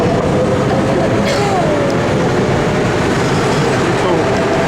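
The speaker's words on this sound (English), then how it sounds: "So we're in this little cute train now" Inside a small, cramped train carriage in Budapest, a continuous loud rumble of wheels on rail carries on, with faint squeals and rattles over it.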